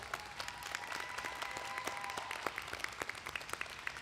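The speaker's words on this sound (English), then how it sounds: "Please give him a round of applause." An audience applauds at a biomedical informatics school commencement ceremony, with steady, moderately distant clapping from a large hall filling the whole stretch without talk.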